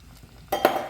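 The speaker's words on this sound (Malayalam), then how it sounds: "ഇനി 1-ാം പാൽ ഒഴിക്കാം." First-press coconut milk pours into a pot of potato stew, a brief soft liquid splash and rush that starts abruptly partway through and swells briefly, with no talking over it.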